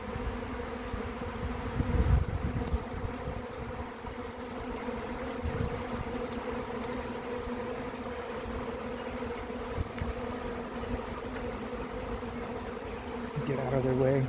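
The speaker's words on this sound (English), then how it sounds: "you can see there's quite a few bees finding the entrance now" A honeybee swarm buzzes steadily and close at hand as bees gather at the entrance of a swarm trap, a dense continuous hum holding evenly throughout with no talk.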